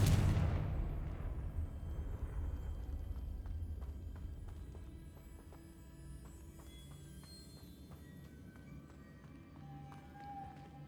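A Confringo fire spell is cast in Hogwarts Legacy, opening with a loud booming blast that rumbles and slowly fades over several seconds, followed by quieter game ambience with faint clicks and tones.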